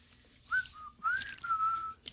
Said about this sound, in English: he's going to whistle before he finds it